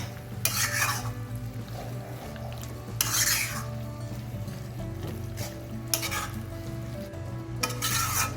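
Mutton pieces coated in masala hiss and sizzle in a pan while a spoon stirs them, with several louder bursts of scraping and sizzling at intervals over a low steady hum from the stove.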